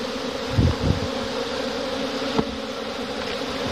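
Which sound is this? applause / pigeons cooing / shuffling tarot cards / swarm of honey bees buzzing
swarm of honey bees buzzing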